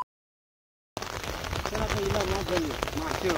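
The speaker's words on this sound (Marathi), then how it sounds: "पाऊस बघा काय लागता तो जवळ" After a second of silence, heavy monsoon rain hisses steadily while a voice speaks faintly beneath the downpour.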